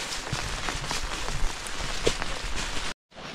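Rain falls steadily on a surface during a walk home in rural Vietnam, a dense hiss with scattered drop taps, loud and close, cutting out briefly before resuming.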